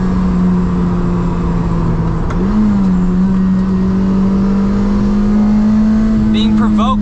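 A Lotus Elise engine pulls steadily under acceleration on a drive, a sustained drone climbing slowly in pitch, loud and close throughout, with some brief higher whirs near the end.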